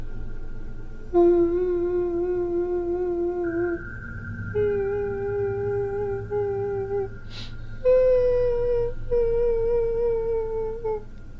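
A voice imitates crying with long, drawn-out wailing moans, several sustained tones in a row with brief breaks between them.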